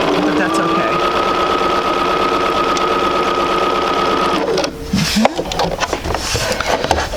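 A sewing machine stitches quilt pieces in a fast, even whirring run for about four seconds, then stops, followed by a few handling clatters and knocks nearby.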